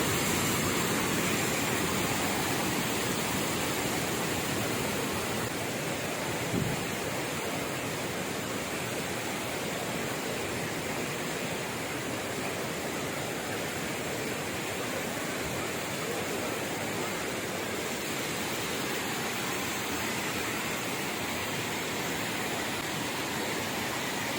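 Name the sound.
roar of a waterfall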